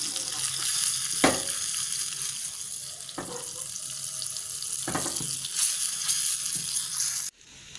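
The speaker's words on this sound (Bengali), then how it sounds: "বাটির মধ্যে বাটার গরম করে নিচ্ছি। এতে আমরা রসুন কুচি দিয়ে দেব" Minced garlic and a pinch of turmeric powder fry in hot butter for a chicken rice dum, giving a steady, fairly loud sizzling hiss with a few brief louder scrapes, then an abrupt cut near the end.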